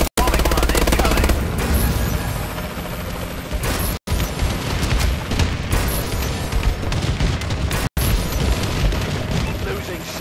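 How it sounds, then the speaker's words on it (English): An enemy bombing run strikes during a Call of Duty Advanced Warfare multiplayer match, with dense, loud bursts of gunfire and heavy booming blasts rolling on for several seconds, broken by brief cuts. "Enemy bombing run incoming."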